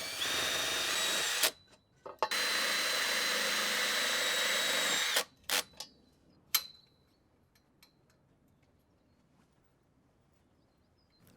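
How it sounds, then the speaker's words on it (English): A power drill whirs loudly as it drives a self-drilling screw through a P-clip on a polytunnel greenhouse hoop, with short bursts that stop abruptly, then a few faint clicks and quiet. "Once happy, tighten and fix the P-clips with a self-drill screw."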